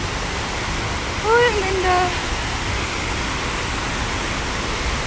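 Tinago Falls in Biliran, Philippines, gives a steady broadband rush of falling water that fills the scene, with a person's voice speaking briefly over it.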